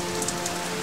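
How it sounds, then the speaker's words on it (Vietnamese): Steady rain falls in a children's animated cartoon, giving a soft, even hiss and patter of drops on a surface with no voices. "ngoài kia trời mưa lạnh mà sao tớ thấy ấm áp quá"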